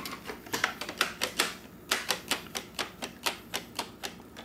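The bumper of an iRobot Roomba 700 series vacuum is pressed over and over, giving a steady run of sharp, close plastic clicks, around a dozen and a half in quick rhythm.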